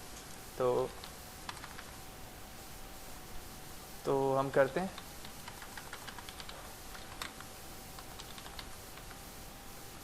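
Computer keyboard typing in short bursts, including an Enter key press while logging in to an ASP.NET MVC web app, clattering near the microphone between stretches of quiet with someone talking.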